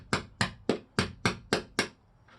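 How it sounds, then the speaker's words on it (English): A hammer strikes a chisel seven times at a steady, even pace, each blow a sharp ringing metallic hit. The chisel is being driven to free trim from the roof channel of a Sprinter van, and the strikes stand alone, close and clear. "So we got the chisel, and you want to make sure you use the right chisel in here."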